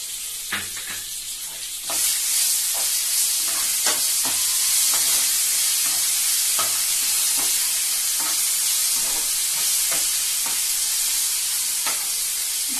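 Leaves tossed into hot tempering oil in a pan, with a loud hiss that rises about two seconds in and holds steadily. Scattered scraping ticks from stirring sound close by with no talking.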